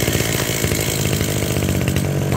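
A used Japanese Kawasaki TG33 33cc two-stroke brush cutter engine with a 37 mm bore runs loud and close, a steady buzzing drone with rapid firing pulses and no voices.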